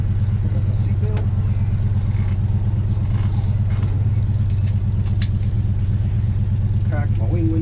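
A 1978 Ford Bronco's engine idles and rumbles steadily from inside the cab, a loud continuous low drone with faint clatter.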